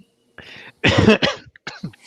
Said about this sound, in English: I was actually coughing right there.